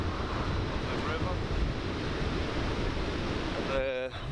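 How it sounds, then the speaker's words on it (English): Waterfall on a river in Paris, heard as a steady, loud broadband roar of rushing water with wind buffeting the microphone, and a brief tonal blip near the end. "here's the lovely waterfall, the river."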